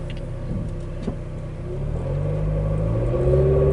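Car interior engine rumble while driving through traffic, steady low drone that swells louder as the vehicle accelerates, with a brief thump near the middle.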